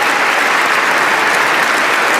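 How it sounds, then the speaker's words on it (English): A large crowd applauds loudly and continuously in Oslo City Hall at the Nobel Peace Prize ceremony, a dense, sustained roar of clapping with no pauses. "A standing ovation and thunderous applause from the assembled guests here in Oslo City Hall."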